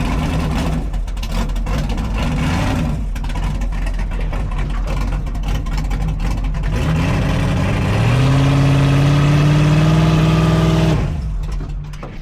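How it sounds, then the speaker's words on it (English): All-wheel drive Class 1 race buggy engine warming up, a loud steady rumbling idle that rises into a higher sustained rev near the end before dropping off. "Buggy's warming up"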